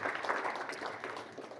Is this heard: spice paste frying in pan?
no